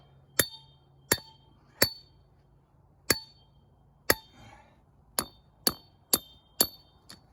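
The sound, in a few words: tapping with a hammer to free a wedged driver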